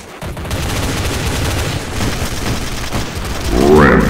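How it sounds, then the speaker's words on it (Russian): Gunfire in Counter-Strike, dense rattling bursts of automatic weapons filling the whole stretch, loud and continuous, with a heavier burst toward the end. "Стреляют, я уже не знаю."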